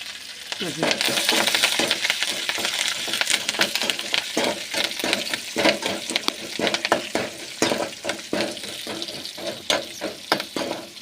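Urad dal and green chili frying in hot oil for a tempering, a steady loud crackling sizzle broken by repeated scraping stirs throughout, with no voices.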